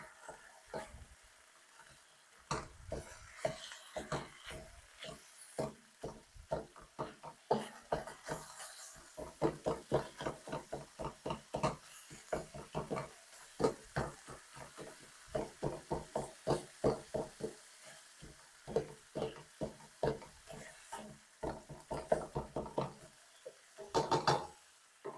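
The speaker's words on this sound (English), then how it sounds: "Give this another quick stir." Shredded cabbage frying in a pan is stirred, giving a quiet, steady run of rapid utensil scrapes and clicks over a faint sizzle, with no talking.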